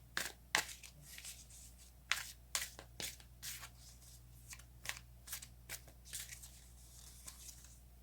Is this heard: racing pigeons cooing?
no